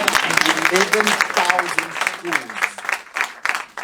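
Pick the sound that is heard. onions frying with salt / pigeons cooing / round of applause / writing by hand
round of applause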